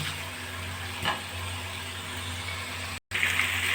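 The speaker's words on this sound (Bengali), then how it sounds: "গ্যাসের ফ্লেমটা কমিয়ে আমি দু মিনিট এইভাবে কষতে থাকবো" Potatoes with carom seeds sauté over a low gas flame for a vegetarian aloo dum, giving a soft, even sizzle with a low hum beneath, briefly cut out before a brighter hiss returns, no talk.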